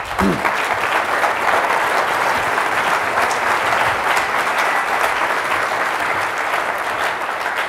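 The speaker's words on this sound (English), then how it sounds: "Let's give David a round of applause." A crowd claps throughout at a branding talk, loud, dense applause holding steady for the whole stretch with no voices over it.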